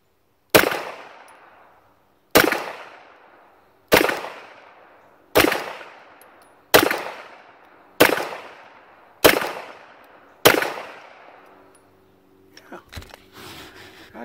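A Glock-style BB pistol fires seven sharp, evenly spaced cracks at roughly one-and-a-half-second intervals, each shot ringing out and decaying before the next, followed by faint handling clatter at the end.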